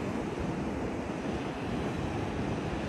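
Ocean surf under a gray sky washes steadily onshore, a continuous broad roar of breaking waves with wind buffeting the microphone, no talking.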